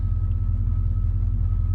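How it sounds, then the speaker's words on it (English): A truck engine runs steadily after being started, a deep low rumble with a constant idle tone, close and loud throughout. "cranked the truck up"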